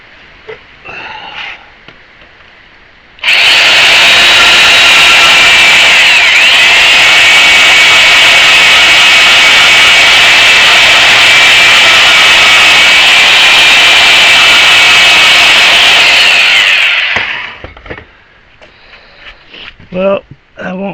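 A power cutting tool cuts out blades for a homemade wind generator, a loud, harsh continuous roar lasting about fourteen seconds that starts and stops abruptly, with quiet handling noises before and after.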